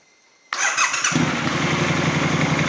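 A Triumph 1200 motorcycle engine cranks with a brief whine, catches abruptly, and settles into a loud, steady cold idle close by.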